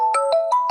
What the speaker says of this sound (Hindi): गठानी जी का फोन आ गया था, व्यवधान के लिए क्षमा।